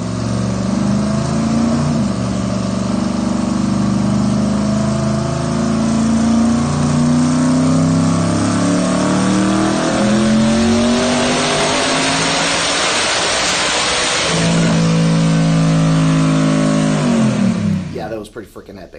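A restored 2,500-horsepower Foxbody car accelerates hard, its engine note climbing through several gear pulls. The sound is loud and close and runs nearly throughout before it cuts off near the end.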